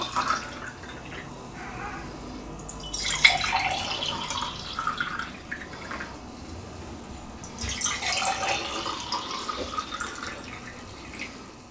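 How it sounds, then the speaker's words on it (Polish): Homemade mint syrup pours into clean glass jars in two long, trickling streams with a little dripping between them, close and fairly quiet, and no one speaks. "Syrop nalewamy do czystych, umytych słoiczków."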